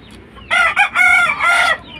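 A muff rooster crows once up close, loud and clear, its call broken into several rising and falling segments, with no talking during it.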